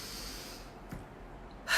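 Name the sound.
deep breath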